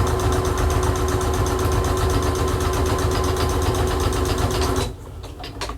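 A sewing machine running on automatic speed back stitches in a fast, steady, buzzing whir up close, then stops abruptly, leaving a few faint clicks.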